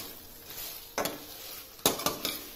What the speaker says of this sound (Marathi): यामध्ये आपण आता तळलेले पनीरचे पीसेस घालूया। आणि छान मिक्स करून घेऊया.